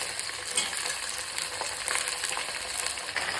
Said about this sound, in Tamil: நம்ம கட் பண்ணி வச்சிருக்கிற காய்கறி அதையெல்லாம் போட்டு ஒரு வதக்கு வதக்கணும்